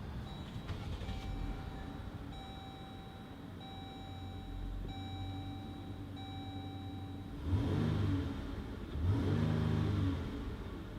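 A 2017 Dodge Durango GT Blacktop sits with a few soft electronic chimes, then the engine cranks and fires on push-button start, two loud rising bursts settling into a steady idle, heard from inside the cabin.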